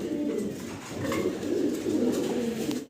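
Soft, throaty cooing from black exhibition pigeons repeats steadily throughout, several birds close by, with a faint background hum.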